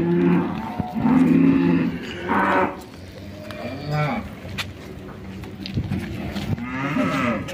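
Cattle mooing loudly at the APPSI livestock contest in Central Lampung, Indonesia, with several long, deep calls spread across the stretch against a noisy crowd background and faint voices.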